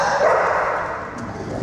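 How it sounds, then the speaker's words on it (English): Sheba, a boxer dog, barks in a single loud, close, sustained outburst that fills the short moment. "they're not barking, except for little Sheba from Maryland"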